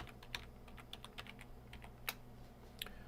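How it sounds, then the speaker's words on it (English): Quiet, close typing on a computer keyboard, a string of irregular soft key clicks with a few sharper taps, over a low steady room hum. "and type in our text."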